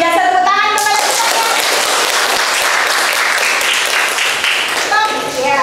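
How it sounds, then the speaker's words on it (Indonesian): A classroom of children bursting into applause, a loud, dense roar of clapping hands that fills the room, with voices calling out at the start and end. "tepuk tangan kepada kita"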